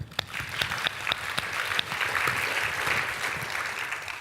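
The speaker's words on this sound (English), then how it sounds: "So I want you all to give yourselves a big round of applause." A conference keynote audience claps steadily, a dense spread of hands with a few sharp, close claps standing out, holding throughout without talk.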